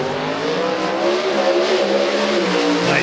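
Pro stock drag race car launching hard down the track at an IHRA event, a loud, close engine roar climbing steadily in pitch through rapid gear revving, heard alone.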